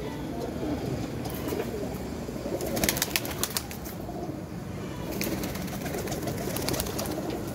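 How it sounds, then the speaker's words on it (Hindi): Mixed backyard pigeons, some recently flown, cooing in a steady low murmur over rustling and faint wing flaps, with brief sharper chirps around the middle; no talk. "ये कुछ उड़े उड़ाए कबूतर हैं, सब कबूतर मिक्स हैं"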